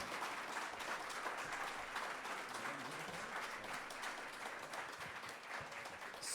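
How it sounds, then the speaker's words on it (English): Sustained applause from a large audience, dense steady clapping that holds at an even level throughout with no voices breaking through. "Let's give him another round of applause."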